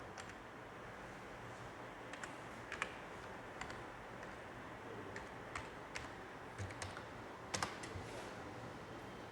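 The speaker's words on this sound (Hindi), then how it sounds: "यहाँ पे हम डालते हैं यूज़र नेम और पासवर्ड" Typing of a username and password on a computer keyboard during login to FTIR spectroscopy software, heard as scattered light key clicks over a steady background hiss, fairly faint with a few sharper taps.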